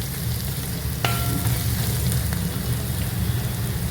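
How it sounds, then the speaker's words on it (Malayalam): Steady close-up sizzling of ingredients being sautéed in a pan until browned for Kerala-style kadala curry, with a continuous frying crackle and a light clink of a utensil partway through. "ഒത്തിരി ബ്രൗൺ ആകണ്ട, എന്നാൽ ബ്രൗൺ ആകുന്ന രീതിയിൽ വരെ വഴറ്റുക."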